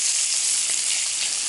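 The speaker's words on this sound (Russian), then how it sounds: "Рыбка жарится быстренько. Свежий налимчик." Fresh burbot fish frying in a pan gives a steady, dense sizzle that stays loud and even throughout, close by and without speech.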